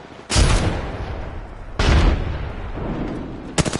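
Loud bursts of rapid gunfire from guns in the shooter game Apex Legends, with three distinct volleys separated by brief reverberant tails and no talking.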